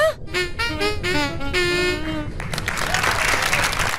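An audience bursts into applause at a stage show, a loud continuous wash of clapping that swells in after a short bit of sung or voiced tones at the start.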